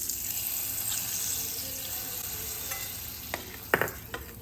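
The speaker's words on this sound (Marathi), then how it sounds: "ही जी फोडणी केली ती घालूया." Hot tempering poured over chickpea usal crackles in soft, quiet sizzles, with a few sharper spits and pops near the end.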